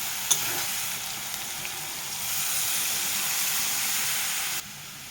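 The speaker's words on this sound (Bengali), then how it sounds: "এই মশলা নেড়ে চেড়ে একটু পানি দেব।" Spices for a prawn and taro-stolon curry fry in a pan with a little water added, giving a steady hissing sizzle that swells louder midway, then drops off abruptly near the end. A sharp clink sounds early on.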